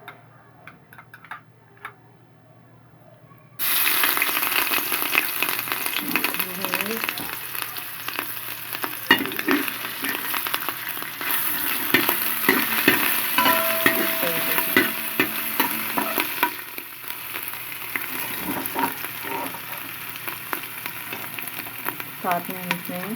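Ginger and garlic paste drop into two tablespoons of hot oil in a pot and burst into a loud, steady sizzle after a few quiet seconds, with the clatter of stirring heard close by throughout.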